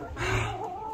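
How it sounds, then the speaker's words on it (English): Hens cluck in a backyard coop during morning chores, a brief close burst of throaty clucks followed by a softer rising note. No one talks. "let's go check the chickens"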